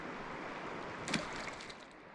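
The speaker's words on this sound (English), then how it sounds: "I don't know if you can hear the water going over the rocks" The Kenai River in Alaska flows over rocks close by, a steady broadband rush and babble of water with a brief splash partway through.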